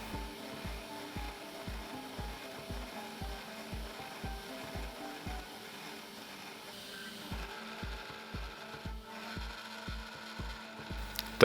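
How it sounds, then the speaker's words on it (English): A Lunyee 3018 Pro Ultra CNC machine mills aluminum at high feed speed, making a steady mechanical whine with evenly spaced rhythmic pulses, close and continuous. "So here we are, test number 2, 10 times faster milling."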